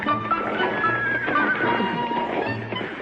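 A horse whinnying in a 1960s sitcom scene, a loud close neigh with wavering pitch lasting through most of the moment, mixed with faint hoof clops and no talk.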